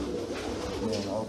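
Pigeons coo softly and continuously at a pigeon auction, a low murmuring drone of several birds under faint background voices.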